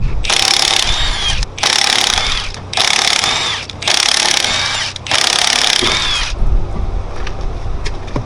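A loud power tool whirs and rattles in five firm bursts, each about a second long with short pauses between, as it spins the wheel nuts off a Mazda RX-7 wheel; no talking.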